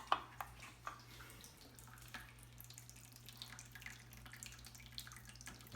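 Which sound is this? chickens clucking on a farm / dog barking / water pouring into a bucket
water pouring into a bucket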